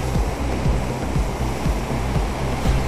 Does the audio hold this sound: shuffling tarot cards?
no